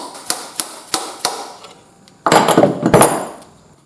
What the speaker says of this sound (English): I'm going to have to use a drift on the end there to drive that through